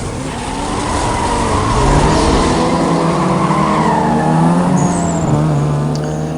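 Racing cars in the video game Need for Speed Most Wanted, on a one-lap race: a loud, continuous engine drone with rising and falling revs and tire noise that holds throughout, with no talk over it.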